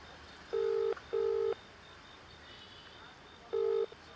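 A phone line's ringback tone while a call goes unanswered: two quick paired beeps, a pause, then another beep, clear over faint background hiss.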